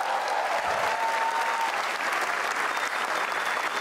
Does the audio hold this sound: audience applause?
yes